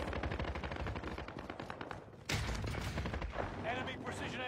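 Precision airstrike explosions in the battle royale game Apex Legends: a rapid chain of loud, close blasts and gunfire-like bursts, with a heavier impact midway and rumbling debris afterward. A voice speaks faintly beneath the barrage.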